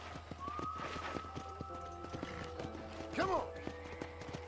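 Horse hooves clip-clopping in the Red Dead Redemption video game, a steady run of close, regular hoofbeats beneath a man's speech, with a short whinny partway through and game music playing behind.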